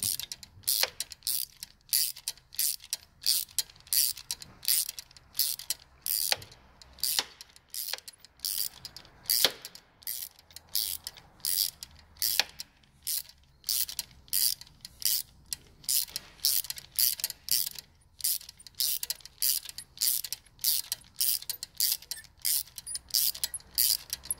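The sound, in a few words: wrench tightening glow plugs on a Dacia Logan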